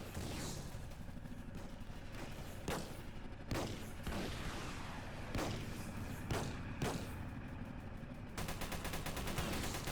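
Tank guns in the Armored Patrol video game fire repeatedly at a target, a string of sharp booming shots over a constant rumbling engine bed, with a rapid rattling burst near the end.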